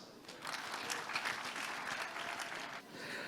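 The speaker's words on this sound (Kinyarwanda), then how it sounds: "Mubaha amashyi." A live audience at a comedy show claps together in a sustained, even round of applause, fairly quiet and distant, easing slightly just before the end.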